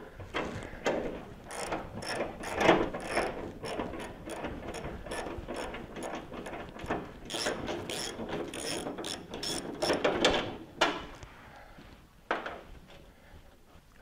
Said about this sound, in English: that bolt under the fender is not very accessible, so I'm going to have to use a socket wrench for that